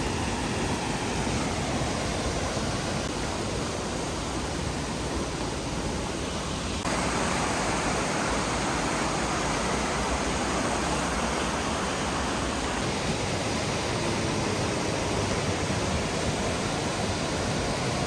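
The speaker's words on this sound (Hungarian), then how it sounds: "Ott csobognak a habok." Water rushing and churning through the Vintgar-style gorge near Bled, Slovenia, a dense, steady roar of foaming whitewater close by that fills the whole clip without any voices.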